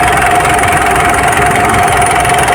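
A Mitsubishi Montero Sport engine idles close by with a steady, even rumble and faint ticking vibration, running alone with no talk.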